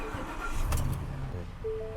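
A car engine cranks and catches, a short starter churn settling into a low idle after fault codes are cleared, with a faint tone from a diagnostic scanner near the end.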